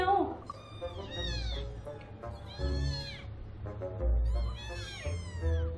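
Several blind kittens meow repeatedly in thin, rising and falling cries, close and overlapping, while someone talks over them.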